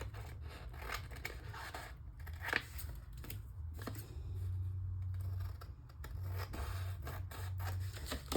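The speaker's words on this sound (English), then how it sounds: "these edges I'm just going to trim off with my scissors" Scissors trimming fabric edges on a sewing project, producing a series of soft, quiet snips and rustles at close range with no talking.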